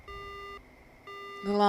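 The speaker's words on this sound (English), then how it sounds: "The line goes dead." Phone line going dead in the horror game Spirit Hunter: Death Mark: two steady electronic beep tones, each about half a second with a brief gap between, clear and alone before a louder tone rises at the end.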